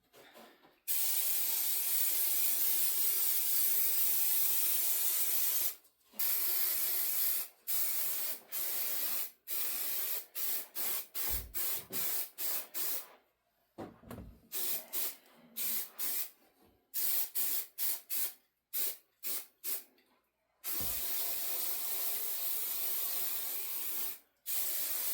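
Spray can spraying adhesive for a 1991 Dodge Grand Caravan van headliner, a close hissing jet in long bursts and then many short rapid puffs, with pauses of quiet between them.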